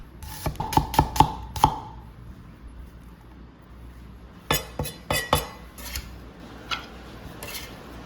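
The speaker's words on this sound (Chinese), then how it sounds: "准备1粒的红葱切丝，不要切太过细，留一点厚度" A knife chopping shallots into thick strips on a cutting board at home: a quick burst of five sharp knocks, then a pause and another uneven run of crisp taps, close and fairly loud with no talk.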